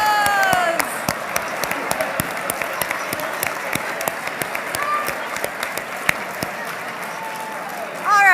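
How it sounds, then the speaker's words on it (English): Audience at a graduation dinner claps steadily for several seconds, a dense patter of distinct hand claps with voices and cheers mixed in. "Give yourselves a round of applause."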